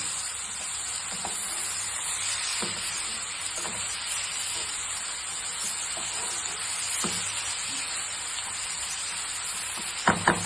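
A leafy vegetable dish made with takla greens, Malvani style, is stirred with salt in a pan. A soft, steady frying hiss runs throughout with occasional light scrapes, and a few sharp utensil clicks come at the very end.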